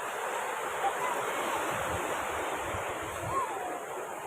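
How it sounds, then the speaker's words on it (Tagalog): A steady, heavy roar of strong ocean waves with wind buffeting the microphone, continuous and fairly loud, with no voices. "Ang lakas ng alon."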